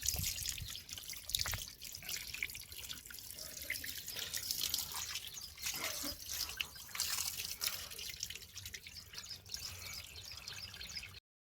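Water trickling and gurgling steadily through a muddy farm field of sticky black soil at night, a continuous close flow with small drips and splashes and no voices.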